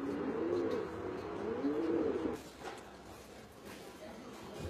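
Racing pigeons coo in low, rolling, close-up bursts, with a couple of repeated calls before the sound drops to quieter background noise.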